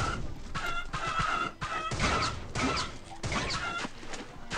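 Chickens cluck and squawk in the Swamp Attack 2 video game, loud and busy, mixed with crashing hits and smashing game effects that keep going steadily.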